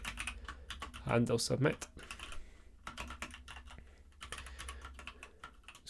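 Rapid, steady clacking of a computer keyboard as code is typed for a React email app, close and continuous, with a brief stretch of quiet speech partway through.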